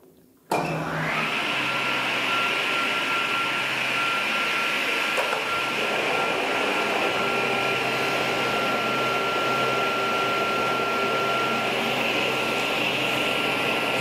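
A circular saw and its dust extraction vacuum switch on in a workshop, jumping to a loud, steady whine with a high tonal hum that holds without a break after a short quiet start.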